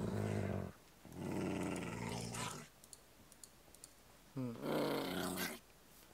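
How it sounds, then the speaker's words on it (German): A hostile dog in Minecraft gives two long, deep, rumbling growls separated by a quiet gap with faint clicks, likely keyboard or mouse, between them. "Der eine Hund wird dich jetzt verfolgen, bis er dich getötet hat."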